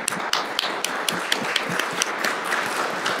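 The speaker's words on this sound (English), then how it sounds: "Big applause." Audience applause for panelists at an academic conference session, a moderate room of distinct individual claps with sharp peaks, steady and unaccompanied by speech.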